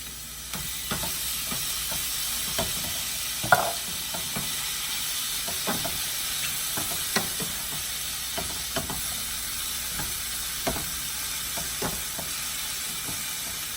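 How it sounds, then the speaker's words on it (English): Peppers and mushrooms sauteing in a pan give a steady soft sizzle and hiss, broken by repeated light clicks and scrapes of stirring, with one louder knock near the start and no talking. "Now I'm gonna saute the peppers. And the mushrooms."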